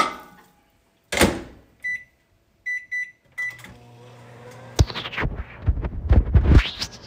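Microwave oven heating Panda Express takeout for three minutes, with a few beeps and a door thud, then a clattering, rumbling burst as it runs close by.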